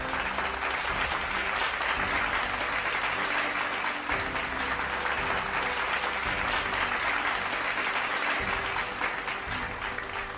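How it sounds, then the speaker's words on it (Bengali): Loud, steady applause from a crowd at the Tiger Run 2025 awards ceremony greets the men's category champion, dense clapping sustained evenly throughout without a break. "চ্যাম্পিয়নের জন্যও একটি জোরে হাততালি"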